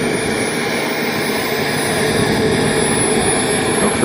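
An RC Viper Jet model airplane powered by an electric ducted fan flies with a loud, steady whooshing roar and a thin high whine, continuous throughout at a flying field event.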